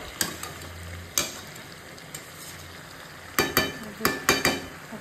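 Meat sautéing with potato and pointed gourd in a pan: a low background sizzle broken by repeated sharp scrapes and knocks of a spoon stirring, the strokes bunching closer together toward the end.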